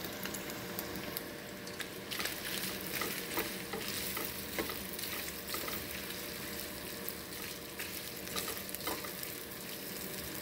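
Beef and onion fry and sizzle steadily in a pan while a utensil stirs and scrapes through them, a continuous close crackle with no talking.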